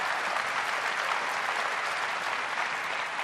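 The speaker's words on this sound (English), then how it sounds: "And the crowd goes wild." A crowd cheers and applauds during a music video game demo at an Apple keynote event, a loud, dense, steady roar of clapping and cheering that runs throughout with no break.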